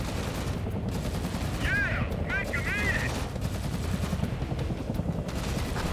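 Gunfire from the video game Tom Clancy's EndWar rattles as continuous battle noise, with bursts of automatic fire layered over a dense, loud bed of combat sound and a few brief radio-like chirps.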